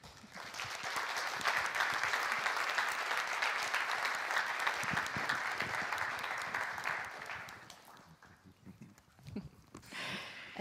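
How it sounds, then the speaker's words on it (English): Audience applause at a panel event, with a dense, sustained clapping swell that fades toward the end and gives way to a few scattered claps and stray room noise. "So a round of applause for Johannes."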